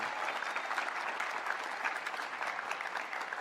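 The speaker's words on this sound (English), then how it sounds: "And finally, a big thank you and round of applause for our Dean of Students, Sally Yeager." An audience at a 2015 Tuck investiture ceremony applauds steadily, a continuous soft patter of many hands heard from a distance with no one speaking.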